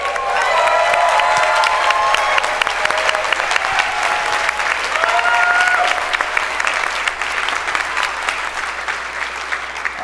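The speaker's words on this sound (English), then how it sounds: "So can you guys stand up and give them a round of applause?" A large crowd at a LevelUp Day company event, close to 1,500 people, stands and applauds loudly, with dense sustained clapping mixed with scattered cheers and shouts for the full stretch.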